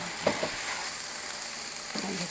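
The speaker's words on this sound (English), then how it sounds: "Just mix that up with your hamburger and your onions and your garlic." Hamburger with onions and garlic sizzling in a pan for a dairy hamburger casserole, a soft frying hiss with a few scraping stirs near the start and another toward the end.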